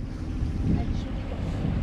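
Wind rushes and buffets the microphone aboard a sailboat heading south off Ibiza toward Formentera, a low continuous roar with a faint wash of water underneath.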